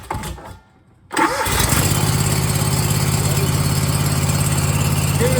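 Barreto tracked trencher engine cranking briefly, falling quiet for a moment, then catching and settling into a loud, steady close-up idle with a rapid even chug.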